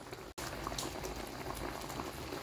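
Ginataang tilapia, tilapia in coconut milk, boils steadily in a covered pot, a dense continuous bubbling and simmering close by after a brief cut at the start.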